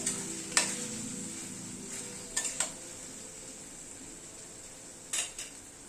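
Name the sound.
stirring chicken with ketchup and kasundi mustard in a pan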